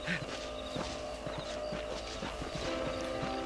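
Horse hooves clip-clopping in the Red Dead Redemption video game on Xbox 360, a steady rhythmic walking gait of many even hoofbeats, moderately close, over ambient game background.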